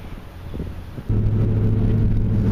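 A car fitted with a K&N cold air intake starts up: about a second of quieter rumble, then the engine catches and settles into a steady, loud, close idle hum.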